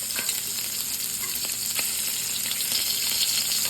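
Cornstarch-crusted shrimp frying in a hot pan for Baja-style tacos, giving a steady, dense sizzle and crackle that runs continuously throughout, with no talking.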